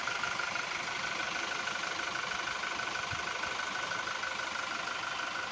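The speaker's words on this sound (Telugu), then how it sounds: "ఇంజన్ నాయిస్ అబ్జర్వ్ చేయండి" A Toyota Innova engine idles with a steady, even mechanical hum and a light ticking running through it, continuous and close with no talk.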